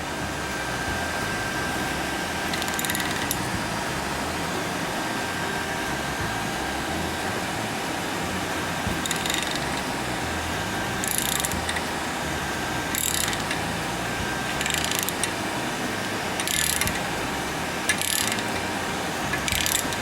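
A socket wrench turning a 1-inch socket gives a series of short, close ratcheting bursts spaced a couple of seconds apart over a steady fan hum.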